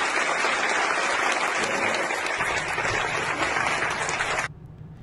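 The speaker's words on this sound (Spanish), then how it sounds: "Así fue como el público aplaudió y lo despidió a Octavio en la obra de teatro Defendiendo al Cavernícola" A theatre audience at the play Defendiendo al Cavernícola bursts into dense, sustained applause for actor Octavio Ocaña, loud and continuous for about four and a half seconds before cutting off abruptly into a quiet room.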